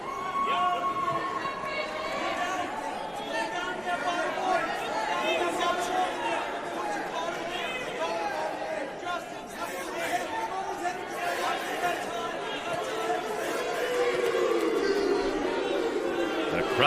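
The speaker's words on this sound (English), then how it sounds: "Crowd trying to urge on Brayton Lee." A college wrestling crowd at a Nebraska versus Minnesota Big Ten dual urges on a Minnesota wrestler, a sustained arena roar of chatter and shouts that swells toward the end, with a commentator talking over it.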